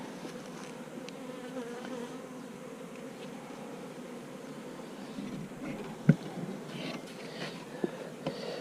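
Honey bees drone steadily around a hive during a November feeding with sugar syrup and pollen in Florida, a dense continuous buzz close by, broken by a few faint clicks and taps near the end.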